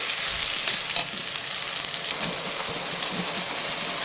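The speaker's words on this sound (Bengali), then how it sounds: "পেঁয়াজ আর রসুনটা প্রায় ভাজা হয়ে গেছে এর মধ্যে এখন দিয়ে দিচ্ছি ব্লেন্ড করা টমেটো" Blended tomato is added to onion and garlic frying in a pan, making a steady, loud sizzle with faint stirring, heard alone.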